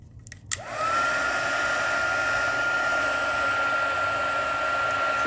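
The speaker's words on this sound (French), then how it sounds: "Et mon fer à chauffer. Pistolet chauffant" A heat gun used for melting embossing powder on a card clicks on and then blows a steady, loud, continuous whoosh with a whining tone that holds to the end.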